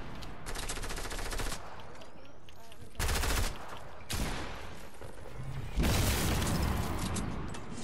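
Gunfire in a shooter video game: several loud sustained bursts of automatic fire, separated by short gaps, close and dominant, with some faint talk between them.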